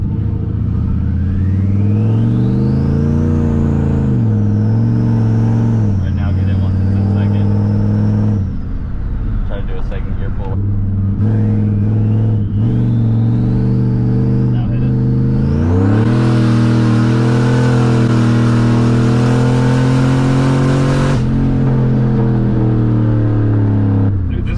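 Turbocharged 5.3-litre GMC Yukon engine with no other modifications, loud and close from inside the cabin, droning and rising in pitch through several acceleration pulls with a whistling turbo spool, then roaring under heavy throttle before easing off.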